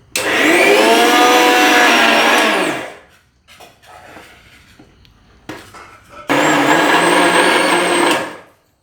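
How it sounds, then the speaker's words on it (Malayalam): A kitchen mixer grinder blending a beaten rice (aval) milkshake, whirring loudly and close in two bursts of about three and two seconds, with clattering handling noises in the pause between. "നമ്മളെന്തായാലും അതിന് ശേഷം നമ്മൾ അത് മിക്സിയിലിട്ട് ഒന്ന് അടിക്കുകയാണ്."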